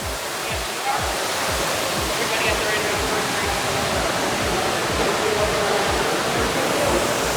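Water cascading down five tiered pools aboard the Royal Caribbean Odyssey of the Seas cruise ship makes a steady, loud, continuous rush that fills the whole clip.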